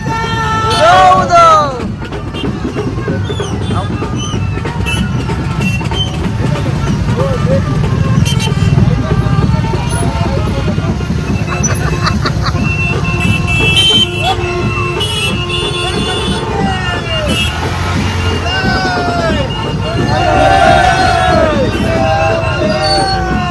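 Many motorbikes at a devotees' bike rally from Koproli to Ekvira, engines droning and revving continuously beneath a busy crowd hubbub, with horns and voices talking nearby throughout.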